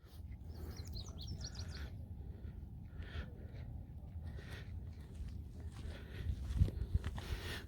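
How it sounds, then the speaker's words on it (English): Small birds chirp and twitter in quick, light bursts over a soft outdoor background on a hiking trail at Mission Peak, Fremont, California, with a few scattered rustles nearby. "Just love the beautiful sound of the birds chirping."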